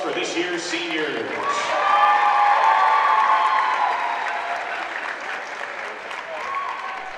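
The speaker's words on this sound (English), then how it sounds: "Let's give it one last round of applause for this year's seniors." A crowd at a boys' basketball game gives a sustained round of applause for the seniors, dense clapping with scattered cheers and whoops, while a voice speaks over it at the start and end.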